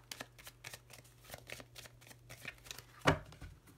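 Tarot cards are cut and shuffled close by. A rapid run of soft flicking riffles gives way to a single sharper slap near the end, all faint and without talking.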